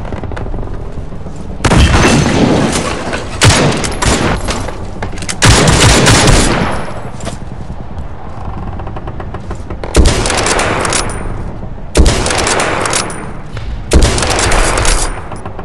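Rapid gunfire from a Lee-Enfield sniper rifle and other weapons in the World War II shooter game World War Heroes, loud bursts and sharp shots in several clusters with brief lulls between.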